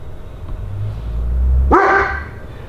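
A dog gives one sharp, close bark in a garage where a small block Ford engine is being worked on. A low rumble runs beneath it, and it is quiet afterwards.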